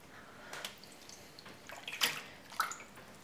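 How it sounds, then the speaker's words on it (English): A wool shawl is lowered into a basin of soapy water for wet blocking, giving a few soft splashes and sloshes spread over three seconds, quiet and close. "The item that I'm blocking today is a shawl, so I'm going to pop that into the water"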